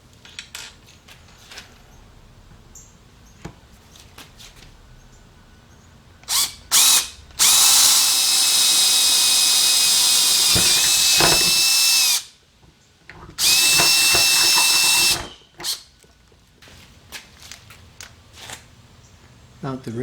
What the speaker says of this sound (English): I need to drill a hole through the bracket